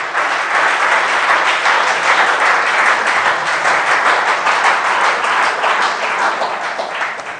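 A church congregation claps together in sustained, dense applause that stays loud and even throughout, with no break and only a slight fade at the end.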